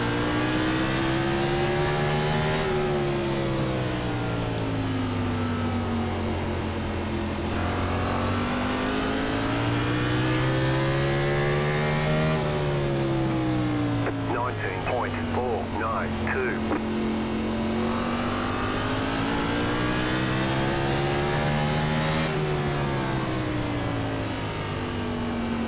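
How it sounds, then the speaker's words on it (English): NASCAR stock cars at Martinsville in iRacing, a loud continuous engine drone rising and falling in pitch as the cars brake into corners and throttle up off them, with several engines overlapping. "A lot of guys are really throttling up off corner."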